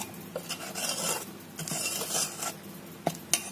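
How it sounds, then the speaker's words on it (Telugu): Rice flour being stirred into sugar syrup for chalimidi, a spoon scraping and rubbing against the pot in a continuous rasping churn, with a couple of sharper clinks near the end. "పిండి అంతా పాకంలో కలిసే విధంగా కలుపుకుందాము"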